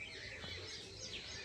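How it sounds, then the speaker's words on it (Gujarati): Myna birds call at dawn around half past six, their faint chirps and whistles coming from a distance over a low, quiet outdoor background. "કાબરો ને બધું ફરવા માંડે પક્ષીઓ"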